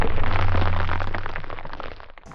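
A gunshot at a target in a slow-motion ballistics test, one loud sharp blast whose low, booming rumble lingers and slowly fades over a couple of seconds.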